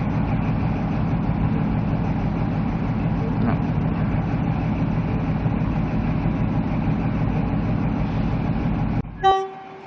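An XPT passenger train sits idling at Brisbane station, its diesel engine giving a loud, steady low rumble throughout, cut off near the end by a brief tonal burst like a horn or signal.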